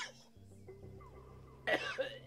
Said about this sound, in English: He's still coughing